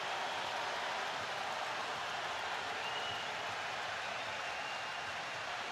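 A football stadium crowd at a World Cup match between Canada and Bosnia & Herzegovina roars as Canada earns a corner kick, a dense, steady wash of cheering and applause that holds unbroken throughout at moderate loudness.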